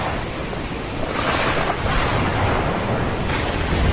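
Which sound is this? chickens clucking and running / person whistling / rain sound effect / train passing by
rain sound effect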